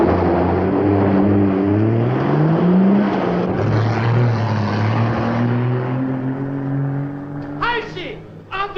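A propeller airplane engine droning in a 1950 film, a loud steady hum with slowly shifting pitch throughout, fading somewhat near the end as a voice calls out over it.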